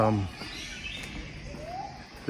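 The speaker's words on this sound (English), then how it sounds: "there's so many beautiful birds out" Birds chirping and calling at dusk on the Sunshine Coast, Australia, light scattered tweets over a quiet outdoor background, with a voice heard briefly at the start and end.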